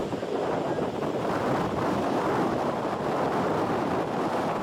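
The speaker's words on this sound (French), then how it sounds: "le vent se lève en général soudainement" Sudden gust-front wind roars steadily and loudly across the microphone, a dense, rushing buffet with no pauses and no voices.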